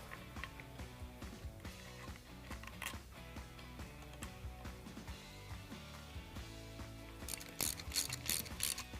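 Metal clicks and ratcheting come from work installing a timing chain tensioner on an engine during camshaft and timing setup, quiet irregular mechanical taps and turns with a brighter burst of clatter near the end.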